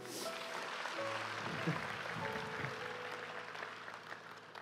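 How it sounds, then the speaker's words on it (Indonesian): Congregation applause during a church worship service, a steady broadband clatter of clapping lasting several seconds, moderately loud and fairly close, with faint organ or keyboard tones underneath. "Mari kita beri tepuk tangan bagi Tuhan."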